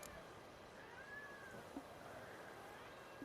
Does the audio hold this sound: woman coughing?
no